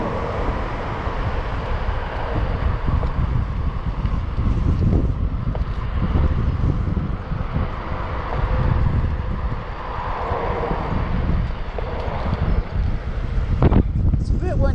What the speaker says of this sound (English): It's a bit windy right here.